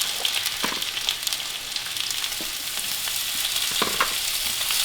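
Southern-style potatoes frying in a pan, a loud, steady close-up sizzle with occasional scraping and stirring bursts, heard alone without talk.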